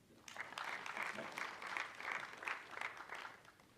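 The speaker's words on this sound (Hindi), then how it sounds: "इनके लिए जोरदार ताली" An audience at the 13th Glory Awards ceremony gives faint, distant applause for the two hosts, a soft, continuous patter of many hands that swells slightly in waves over several seconds.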